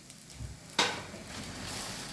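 Garlic and onion fry in a pan for a Mangalorean dish, giving a soft, steady sizzle with a sharp clatter near the start, quiet and close with no voices.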